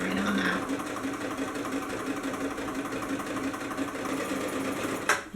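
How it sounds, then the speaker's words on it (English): A sewing machine runs steadily through a zigzag stitch while paperbag pants are being made, a continuous close mechanical whir with rapid rhythmic clatter, ending with a brief clunk. "I'm going to continue on with my zigzag stitch"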